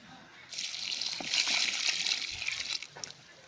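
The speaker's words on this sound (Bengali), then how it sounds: "এরকমভাবে জল দিয়ে দিবেন" Water pours onto the soil around a potted pomegranate tree, a close, steady splashing trickle lasting a couple of seconds before tapering off, with a few faint taps.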